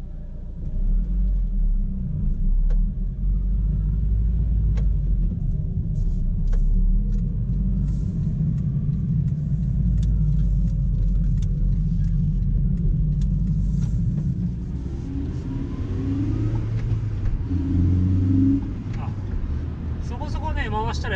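Interior of a used Honda Civic Type R FD2 with coilover suspension, aftermarket LSD and carbon hood, driving and shifting, a steady low engine rumble and road drone throughout, with someone talking over it for much of the time.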